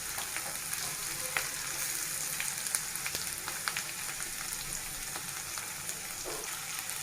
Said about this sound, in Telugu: ఇప్పుడు మనం పచ్చగా దంచి పెట్టుకున్న అల్లం వెల్లుల్లి పేస్ట్ని యాడ్ చేసుకుందాం.